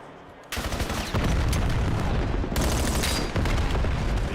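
Dense Call of Duty gunfire in a competitive match, with rapid automatic bursts, heavy booms and grenade blasts stacking into a loud, sustained barrage that erupts abruptly after a brief quieter start.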